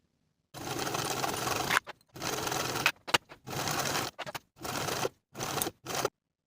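Sewing machine basting the armholes of a V-neck top with ruffle sleeves, heard as a series of short close whirring stitch runs of varying length separated by brief silences, no talk.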